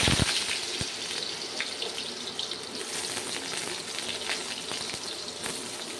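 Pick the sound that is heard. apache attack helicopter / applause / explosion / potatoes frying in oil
potatoes frying in oil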